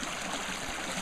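Water runs steadily down through an opened hatch in a small stream, a continuous close rushing trickle with no voices.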